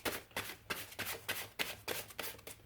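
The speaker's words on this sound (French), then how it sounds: "on va prendre une carte de Green Wheel Oracle" Green Wheel Oracle cards being shuffled by hand, with about eight crisp, riffling bursts in an even rhythm, close and clear with no talk.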